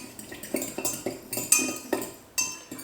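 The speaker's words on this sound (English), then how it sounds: "Let's mix those together first." Sugar being stirred into an Asian salad dressing in a bowl, a utensil clinking and scraping against the dish in a steady repeated rhythm of close, moderately loud strokes, with no talking.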